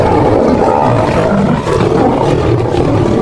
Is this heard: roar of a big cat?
yes